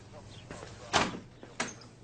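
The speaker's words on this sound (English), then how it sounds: "And close the door." A door at a country police station pushed shut with a single solid thud, followed by a lighter knock, fairly close and quiet, with room tone around it.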